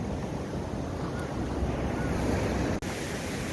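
Ocean waves wash onto Songjeong beach the day before a typhoon, a continuous broad roar of surf with wind buffeting the microphone, loud and close with no pauses.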